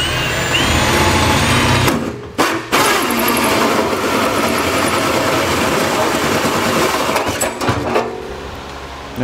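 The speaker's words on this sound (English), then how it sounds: "we're gonna use a 2-inch hole saw in this location here to clean this up, or to cut this out" A 2-inch hole saw grinds through the heat shield of a 2020 Ford Explorer while fitting a trailer hitch, a loud, steady whirring cut with brief pauses around the two-second mark and near the end.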